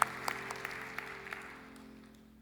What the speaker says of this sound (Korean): 우리 서로 힘내시라고 우리 박수로 한번 축복합시다.